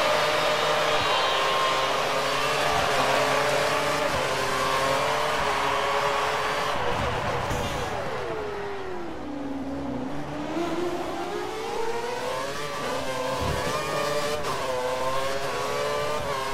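Formula 1 race cars scream away from the start at Bahrain in the video game F1 2013, a sustained, loud engine whine that dips and climbs again as the pack accelerates.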